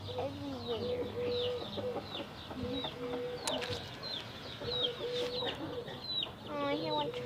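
Among a flock of chickens being fed, a chick peeps in repeated thin chirps over a steady murmur of hens clucking nearby.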